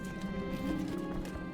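A horse in the strategy game Crusader Kings 2 gives a brief, quiet burst of hoof clatter with a faint whinny-like tone, lasting only a moment.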